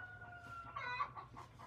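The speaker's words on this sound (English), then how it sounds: "That rooster." A rooster crows briefly and faintly in the distance, a short strained call over quiet outdoor background.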